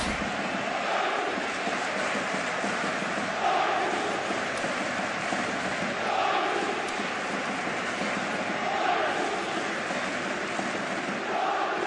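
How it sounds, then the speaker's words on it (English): A steady, dense roar of a football stadium crowd in the PES 2018 video game, a broad wash of massed voices that swells gently at times and runs without a break. "you can hear how the crowd are reacting to this too"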